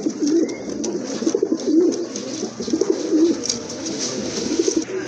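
Pigeons in a seller's collection of fancy breeds, including black Bombay pigeons, coo steadily in a low, throaty chorus, with repeated soft rolling calls overlapping throughout and no talk.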